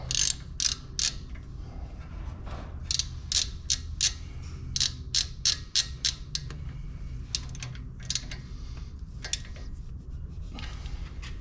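Repeated ratchet clicking while tightening front brake caliper bolts on a 2014–2020 Infiniti QX80, in a steady series of short, close bursts of sharp metallic clicks with brief pauses between them and no talking.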